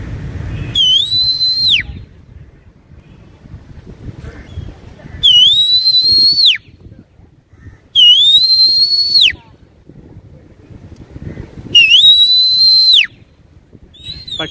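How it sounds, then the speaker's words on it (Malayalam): A man whistles loudly and close to call kites, giving four long rising-then-falling whistles separated by pauses, with faint background noise in between. "അദ്ദേഹം വിസിലടിച്ച് കൈകൊട്ടി വിളിക്കുന്നുണ്ട്"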